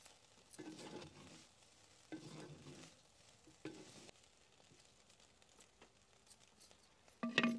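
Paneer fried rice being stirred and mixed in a pan, with a few loud scraping and tossing bursts over a faint sizzle, quiet gaps between strokes and a sharp clatter at the end.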